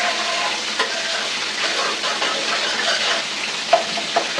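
Paddy roasting in a pan on a home stove gives a steady dry sizzling rustle, moderately close, with a few small pops near the end.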